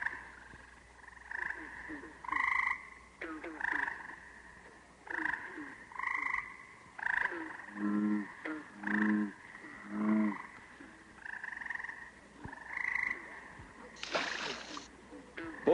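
Bullfrogs croak at a pond at night, a series of deep, resonant calls repeating in uneven pulses, fairly close, with some splashing and water sounds and a louder burst near the end.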